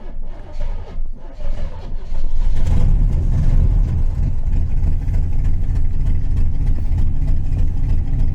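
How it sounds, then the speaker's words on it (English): A Corvette V8 engine with new spark plugs cranks briefly, then catches and settles into a loud, deep, rumbling idle that runs steadily, close by. "why don't we get in and see if it'll fire up now"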